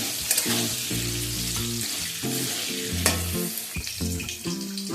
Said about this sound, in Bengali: এবার আলুটাকে একটু লালচে করে ভেজে নেব।